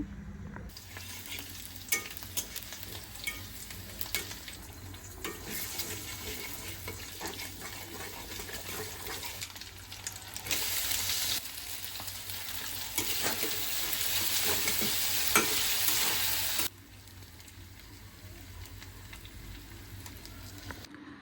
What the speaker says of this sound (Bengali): আমি আজ ইফতারের জন্য রান্না করব নুডলস